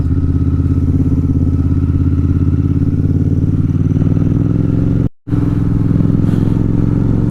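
A motorcycle rides along curvy mountain roads in Uttarakhand, its engine droning loud and steady at close range, with a brief dropout partway through and no talking.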